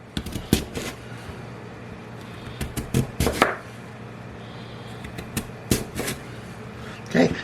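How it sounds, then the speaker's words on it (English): Sweet potato is sliced into thin pieces with a knife, giving sharp, uneven chops on a cutting board, some single and some in quick pairs, close and clear with quiet pauses between. "then I can slice the rest of it. About 1/8 of an inch slices"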